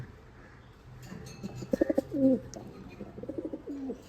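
Pigeons coo in short, throaty bursts, a few repeated calls close by over quiet background noise.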